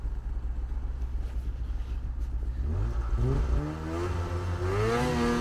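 Snowmobile engine revving under throttle, a steady low rumble that rises into a climbing, harmonic whine as the revs build and hold, loud and close.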